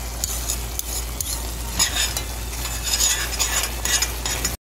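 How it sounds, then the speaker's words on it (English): A sugarcake mixture is stirred in a pot, with a spoon scraping and clinking against the metal in uneven strokes over a steady bubbling sizzle, close by and without voices. "And turn it in, mix it in."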